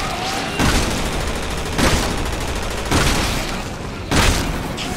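Shotgun blasts in the Resident Evil 6 video game, four loud booming shots spaced about a second apart over a continuous roar of game noise, with no talking.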